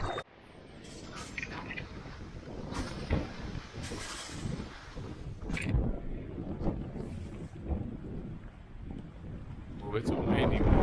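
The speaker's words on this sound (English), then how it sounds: "Oh, it's a windy one back here." Gusty wind buffets the microphone beside a pond on an early-spring canoe portage in the St. Regis Canoe Area, rising and falling in loud rushes, with occasional clunks and rustles of handling.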